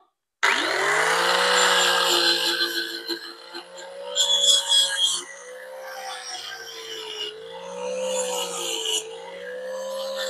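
An angle grinder works over a weld made with a cordless welder, a loud steady whine with shifting tone as the disc bites, interrupted by bursts of harsher rasping contact, close up.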